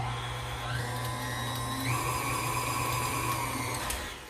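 A whisk mixing dairy-free banana bread batter, heard as a steady motor whine that steps up in pitch partway through, close and continuous with no talking.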